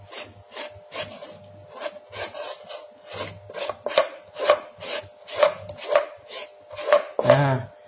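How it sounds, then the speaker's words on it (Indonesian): A spoon scrapes the flesh out of a halved aloe vera leaf in a run of short, rhythmic rasping strokes, close and fairly quiet, with a faint steady tone in the background. "terus kita kerok pakai sendok."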